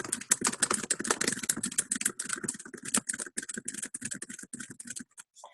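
Rapid, uneven keystrokes clatter on a computer keyboard, close and crisp, running in quick bursts for several seconds before trailing off into a few last taps and silence.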